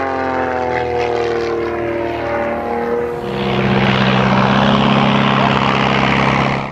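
A loud propeller engine on an aerobatic airplane drones steadily nearby, its pitch shifting partway through as the aircraft maneuvers, then roaring louder and fuller.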